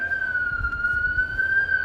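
A siren holds one steady high tone throughout, loud and continuous over a low rumbling background, at a soccer match.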